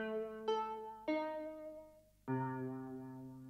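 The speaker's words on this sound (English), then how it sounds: "Then I added this second like dry guitar that just gives it a little bit more of a rhythm." A dry guitar in a vintage-style sample plays three plucked chords spaced apart, each ringing out and slowly decaying, clean and close with no other sounds or voices.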